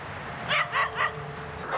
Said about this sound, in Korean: 제작진을 경계하듯 격하게 짖는 녀석들.